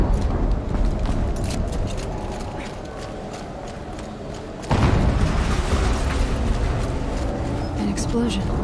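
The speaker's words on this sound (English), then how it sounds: "An explosion." A sudden explosion booms partway through gameplay in Horizon Zero Dawn, cutting in over a steady bed of rhythmic hoof-like clopping and game noise, then settling into a continuous rumble.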